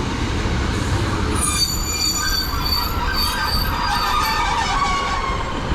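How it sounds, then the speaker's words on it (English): A ScotRail train, unit 156502, arriving at a platform on the Glasgow South Western line, with steady rumbling rail noise and high whining wheel squeal rising over it throughout, no voices. "arriving in now is the 1608 ScotRail service to Glasgow Central"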